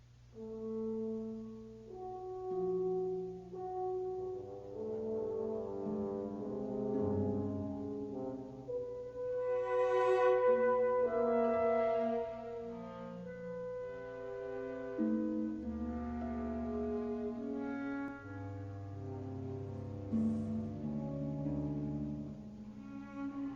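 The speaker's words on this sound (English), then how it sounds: "You'll hear the example of Klangfarben melody and see the symmetry in the following musical example." Soft orchestral excerpt by Webern using Klangfarbenmelodie, sustained tones passing between instruments in slow overlapping notes, quiet and continuous with gentle swells and no voices.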